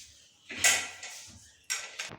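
A metal lid is set onto a pressure cooker holding lentils and ghee, giving a couple of clattering scrapes and clanks close by in a quiet kitchen.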